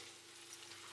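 Green beans fry in a pan with golden garlic for a Valencian paella, a steady, dense sizzle that stays even and close throughout with no other sound.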